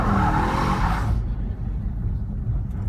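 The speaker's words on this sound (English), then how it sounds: "So traction control off. Even if you're fairly delicate with the throttle, it spins." A 2015 Jaguar XFR-S with traction control off accelerates hard, its engine roaring loudly and steadily while the tyres spin. The sound drops to a lower rumble partway through.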